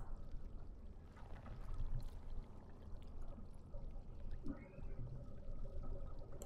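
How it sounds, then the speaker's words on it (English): Water poured into an earthen clay jug in Dragon Age: Origins, a steady, moderately soft pouring and trickling that runs throughout with a slight splashy swell midway. "Fill the earthen jug with water."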